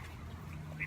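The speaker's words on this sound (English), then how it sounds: "the family of ducks" Short burst of duck quacking from a family of ducks with ducklings outdoors, a quack rising near the end over a steady low background hum.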